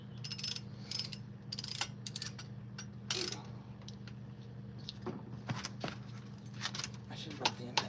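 A ratchet wrench works loose the last cylinder head bolts on an old, tired Chevy 305 engine from an El Camino teardown, giving sharp, intermittent bursts of close clicking over a steady low hum.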